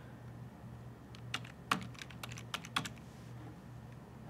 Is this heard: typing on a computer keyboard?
yes